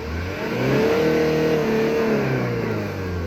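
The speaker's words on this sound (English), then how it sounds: "If you can hear the engine, sounds perfect." Diesel engine of a 2005 Hyundai Porter freezer truck with manual transmission, revving steadily up and down at close range, loud and continuous with no talk.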